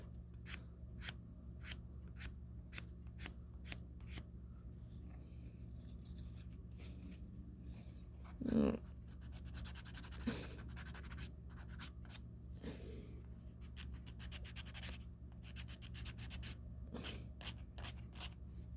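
Rapid rhythmic scratching of a file across a dip powder nail, quick close strokes in bursts with short pauses, faint and intimate against a low background hum.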